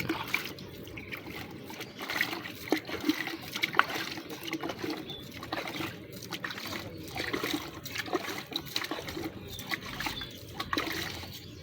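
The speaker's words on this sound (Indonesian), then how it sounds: "Setelah ditanam akan disiram oleh Bagus tuh tanaman." Water trickles and splashes onto the soil around a newly planted saga (rosary pea) vine outdoors, a continuous low, uneven pouring and dribbling sound, close and moderately quiet throughout.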